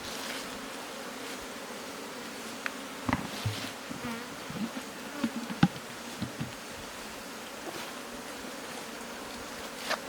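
Faint, steady insect buzzing with a few louder passes of individual bees drifting close, then fading, against a quiet outdoor background.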